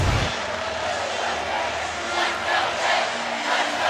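Roaring crowd of nearly 5,200 fans at a women's volleyball match in a Pittsburgh arena, a loud continuous wash of cheering and shouting that swells in waves, with voices mixed in throughout.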